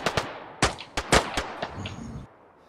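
Gunfire in the video game DayZ from a hunting rifle battle, several sharp, loud shots in an irregular sequence, some quite close, with echoing tails fading out at the end.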